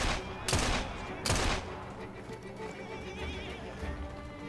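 Horse bolting in the game Assassin's Creed Syndicate, with sharp whinnies and clattering hoofbeats near the start, then running hooves and busy background action that fades as it moves off. Someone talks over part of it.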